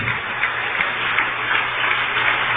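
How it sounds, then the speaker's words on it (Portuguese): Congregation applauding inside a church, a steady dense wash of many hands clapping at even loudness throughout, fairly close and with no voices above it. "Vamos aplaudir mais o Senhor Jesus."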